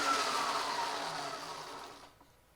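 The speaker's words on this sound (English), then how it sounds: "You barely crack that throttle and that rear tire is moving." A Stark Varg electric motorcycle revs up with a smooth, steady whine as its rear tire spins, then fades and drops away to near silence within about two seconds.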